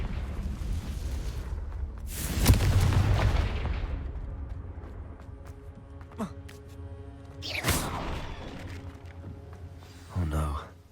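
A Confringo blasting spell in Hogwarts Legacy, two loud booming explosions with rumbling tails a few seconds apart, followed by a shorter thud, over low background music.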